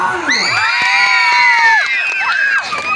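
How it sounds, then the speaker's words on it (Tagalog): Loud crowd shouting and cheering at a school event, children's shrill voices rising and sliding in excited yells, close and continuous, with little audible clapping. "Palakpak naman ang may kasama sigawan."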